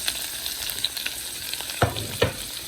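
Green and red capsicum with onion frying in a pan for chilli chicken, a steady sizzle under scattered stirring clicks and a couple of louder spatula scrapes, no voices.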